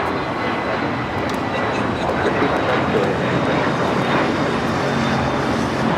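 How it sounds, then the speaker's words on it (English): Cessna Citation Latitude business jet at Los Angeles airport, a loud, steady broadband jet roar that holds evenly throughout without letting up. "That's a Cessna 688. Citation latitude."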